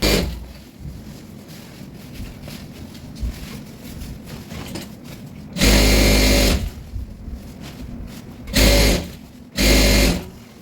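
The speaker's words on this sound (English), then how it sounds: "at this point I'm going to go ahead and top stitch it round" Sewing machine topstitching around a rope tote bag, with a low steady hum in the background and three loud bursts of stitching, the middle one shortest, each starting and stopping sharply.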